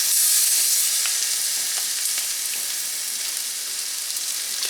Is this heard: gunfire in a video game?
no